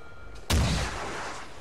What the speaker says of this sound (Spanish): Logan, derribe ese helicóptero con misiles teledirigidos.